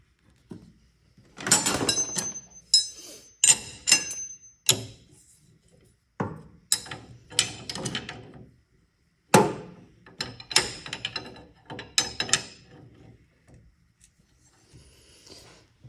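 A nut is tightened on a stacked dado blade on a table saw arbor, giving a series of irregular metallic clanks, taps and handling knocks, heard close and without talk.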